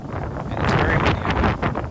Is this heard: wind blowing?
yes